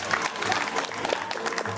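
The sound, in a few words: audience applause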